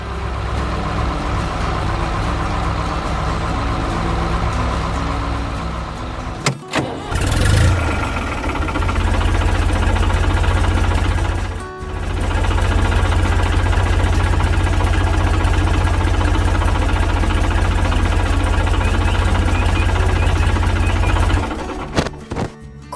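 A farm tractor's engine runs loud and steady, a low heavy drone broken by a sharp thump around seven seconds and a brief dip near twelve, then carrying on unchanged until it cuts out near the end.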